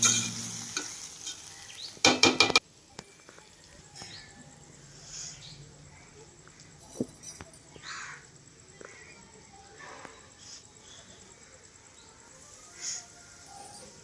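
Food fries quietly in a pan with a soft, steady sizzle and occasional stirring scrapes, opening with a brief loud clatter; a voice is heard briefly and birds chirp faintly in the background.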